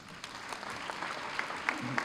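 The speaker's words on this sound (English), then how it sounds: "Perhaps a round of applause for them." An audience at an award acceptance gives a soft round of applause, a fairly faint, continuous clatter of many hands heard from a distance, with a few brief sharper sounds near the end.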